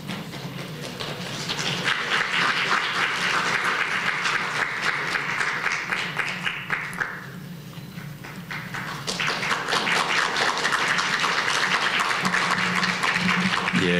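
Congratulatory applause fills a hall at a university inauguration service, with dense clapping that dips and thins midway, then swells back to full strength while a low tone hums underneath.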